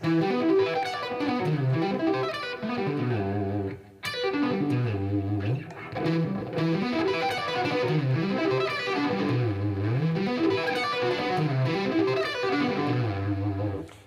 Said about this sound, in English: One is sweeping across the strings, and then the other one is hammering on.